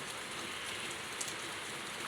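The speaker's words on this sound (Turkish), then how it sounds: "Yağmur daha önemli yağmurumuz yağsın." Steady rain falls on a surface in Turkey, a soft continuous hiss of many drops, faint and even throughout with no voices.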